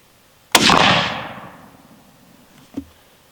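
A Remington rifle fires a single loud, close shot at an outdoor range, with a sharp crack followed by a long fading rumble and a small knock shortly after.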